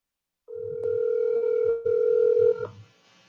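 Telephone heard over a speakerphone in a commission meeting room, a single steady electronic tone lasting about two seconds with a brief dip partway, ending abruptly.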